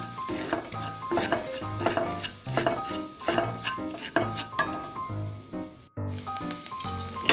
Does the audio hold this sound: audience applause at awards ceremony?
no